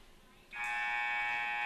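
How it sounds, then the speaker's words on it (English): Gym buzzer at a Cascade vs. Danville girls volleyball game, a loud sustained electronic tone that starts abruptly after a brief quiet moment of room noise and holds steady. "There's the buzzer."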